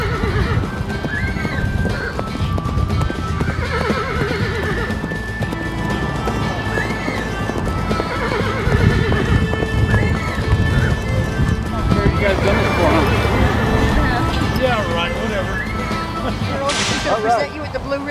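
A horse is ridden through a weave of three poles at a ranch event, hooves clip-clopping and the horse whinnying amid steady crowd chatter and an announcer's voice throughout.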